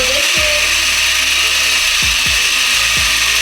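A tufting gun's motor runs at its low speed setting, giving a steady, even electric whir with a few sharp mechanical clicks, close by and without talk.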